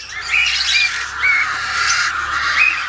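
A lutino pied cockatiel gives several harsh, shrill squawks in quick succession, close and loud, over a faint background hum.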